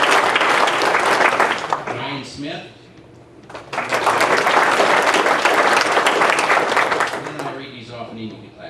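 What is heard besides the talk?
audience applauding at a banquet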